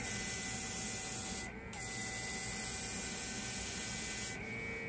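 A mini compressor runs steadily with a loud continuous hum and hiss from the airbrush spraying paint, briefly dipping twice as the spray stops and restarts, close by with no talk.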